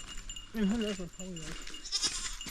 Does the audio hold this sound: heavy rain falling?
no